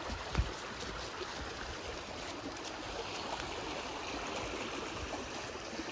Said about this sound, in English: Levels of the streams are higher now.